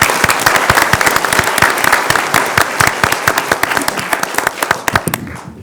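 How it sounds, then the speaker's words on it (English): A school board meeting audience applauding, dense clapping from many hands in a room, loud and sustained before tapering off at the end. "Let's give Mr. Morris and King Morris Supply a round of applause."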